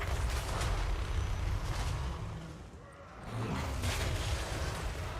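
In the Total War Warhammer 3 video game, a Chaos Dwarf Magma Cannon fires amid battle, with heavy booms and rumbling over a dense, constant wash of combat noise and no clear talk.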